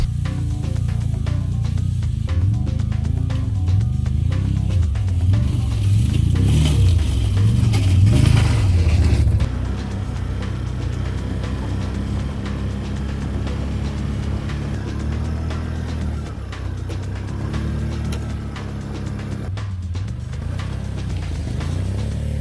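A four-wheeler ATV fitted with a plow pushes through deep snow after a storm, its engine droning steadily and close, louder and rumbling at first, then settling into a lower, even hum with occasional scraping.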